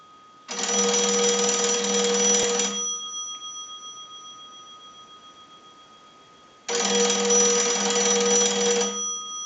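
A single-slot AT&T payphone ringer rings from a test analyzer's ring cycle, two loud bursts of bell ringing about two seconds long separated by a quiet gap of several seconds, close and clear with no talk.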